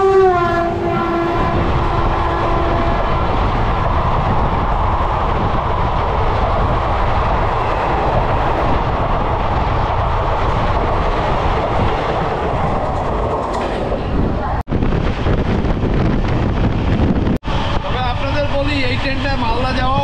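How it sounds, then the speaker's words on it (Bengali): The Lalgola Passenger train passes Shimurali station with a loud, close rumble and wheel clatter, a long horn blast at the start and brief gaps near the end. "শিমুরালি স্টেশন থেকে এবার লালগোলা প্যাসেঞ্জার ক্রস করছে।"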